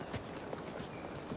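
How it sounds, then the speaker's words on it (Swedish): A horse approaching on a visit to a castle, its hooves clip-clopping in a quick, uneven rhythm of several light strikes over a short stretch, fairly soft and close. "Nu när det kommer häst."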